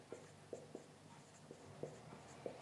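Pen or marker tapping and scraping on a classroom board in quick separate strokes, faint and close, with a steady low hum beneath and no voices.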